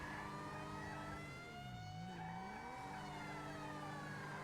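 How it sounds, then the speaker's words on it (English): A car in GTA 5 skids after the e-brake is yanked, engine tone dipping and rising with sustained tire squeal over a steady drone, no talking. "hitting the e-brake."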